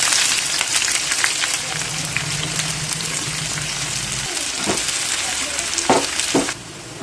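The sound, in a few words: sliced onions frying in sunflower oil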